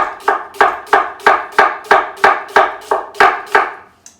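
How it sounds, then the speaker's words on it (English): A knife slices thinly through an onion on a cutting board, striking in about a dozen crisp, evenly spaced chops that land close and loud, each with a short decay, and no one speaks. "So I'm going to slice this onion very thinly."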